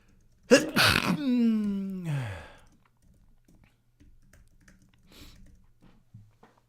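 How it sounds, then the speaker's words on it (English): A single loud sneeze with a sharp intake and a trailing voiced burst, close to the mic, followed by quiet rustling and faint movements. "I had that sneeze coming for a while."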